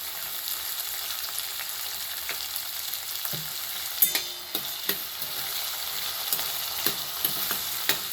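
Spiny gourd (kantola) frying in oil for a village-style sabzi with tomato and green chilies, a steady close sizzle with occasional sharp stirring clicks and scrapes, no voices.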